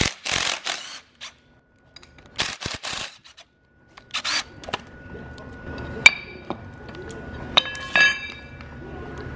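Metallic clinks and knocks from a BMW 325 brake caliper being pulled off its carrier, with scattered taps and a few sharp ringing hits after an opening stretch of intermittent speech.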